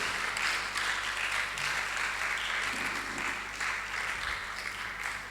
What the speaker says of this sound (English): Please let's appreciate him with a huge round of applause.